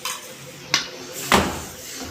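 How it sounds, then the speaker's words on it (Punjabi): Tomato paste going into a hot pan for a Punjabi soya chunk curry, with two distinct clanks of a spoon against the metal pan over a faint background sizzle. "ਹੁਣ ਇਹਦੇ ਵਿੱਚ ਆਪਾਂ ਟਮਾਟਰਾਂ ਦਾ ਪੇਸਟ ਬਣਾਇਆ ਹੋਇਆ ਪਾਵਾਂਗੇ"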